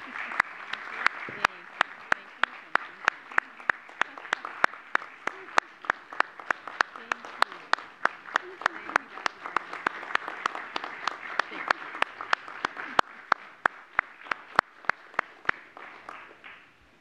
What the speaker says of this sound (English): I invite the audience and our staff to give the school board a round of applause for what they do every day.